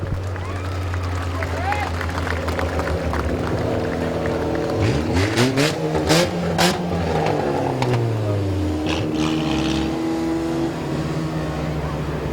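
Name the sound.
race car engine at dirt track speedway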